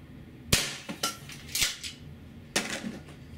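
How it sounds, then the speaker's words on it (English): An APS CAM870 CO2 shotgun fires 0.68 caliber rubber rounds, giving a few sharp, loud cracking reports spaced about half a second to a second apart, with no talking. "I can even hear the rubber round bang inside,"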